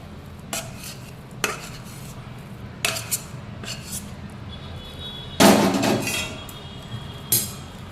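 Hot bajra flour sukhdi cooked with ghee is spread onto a plate, giving a series of close scraping and clinking knocks of a utensil against metal at irregular intervals, with one longer scrape near the middle.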